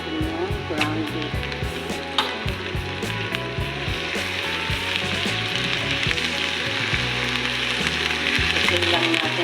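Ground beef frying and sizzling in a pan for an Egyptian moussaka with eggplant and potato, a steady dense crackle running the whole time with occasional stirring clatter.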